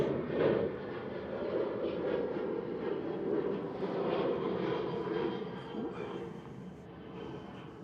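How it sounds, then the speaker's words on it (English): Norwegian Boeing 737-800 departing Manchester for Oslo, a sustained distant jet rumble and whine that swells and eases slightly over several seconds, with faint voices now and then. "So that's Norwegian just heading back to Oslo, and then NHG is a 8-year-old 737-800."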